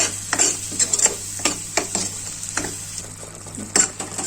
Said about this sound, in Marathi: आता मी हे मसाल्यांमध्ये हे वाटण मिक्स करून घेते